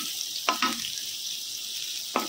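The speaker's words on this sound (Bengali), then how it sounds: "কাজু কিশমিশটা একটু ভেজে নেব এটার মধ্যেই" Cashews and raisins fry in a pan with a soft, steady sizzle, broken by a few brief stirring knocks; no one talks.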